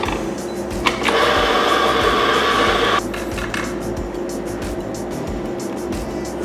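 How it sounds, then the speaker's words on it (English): An electric grinder whirs loudly through 20 grams of coffee beans for espresso, a dense roughly two-second burst that drops to a steadier, lower motor hum. "We're going to grind 20 grams of coffee beans."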